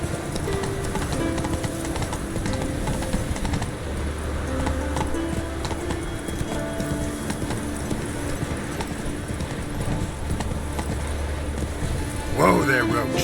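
Hooves of the horse Roach clip-clop steadily at a trot in The Witcher 3, under game music and someone speaking, with a brief clatter near the end.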